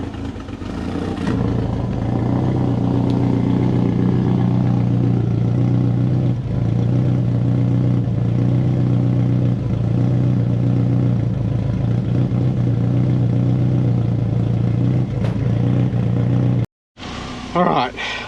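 A turbocharged Subaru engine with its DIY exhaust manifold and the exhaust open, running loud and close with a steady low rumbling drone and slight clatter, which cuts out abruptly near the end before a brief restart.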